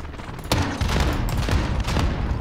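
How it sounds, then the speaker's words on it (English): A grenade launcher firing in Warzone, a rapid string of close, punchy shots with sharp thumps about every half second, loud and without talk. "Was the grenade launcher always this weak?"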